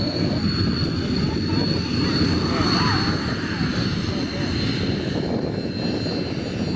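An aircraft engine roaring at the Wings over Illawarra 2016 air show at Illawarra Regional Airport, loud and sustained with a steady drone and a high whine throughout, with voices underneath.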